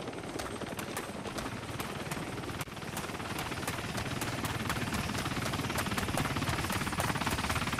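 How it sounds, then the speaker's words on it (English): A helicopter in DayZ on the Namalsk map passes overhead, its rotor beating in a steady rapid chop that grows louder and closer over several seconds, with no talk. "The same helicopter we had just flew"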